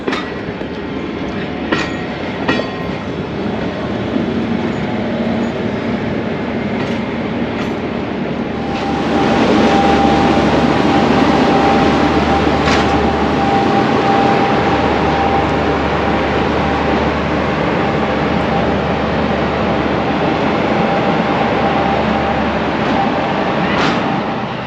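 The northbound Ghan passenger train pulls out of Alice Springs, producing a steady loud rumble and clickety-clack of carriages rolling past nearby, swelling partway through and continuing without pause.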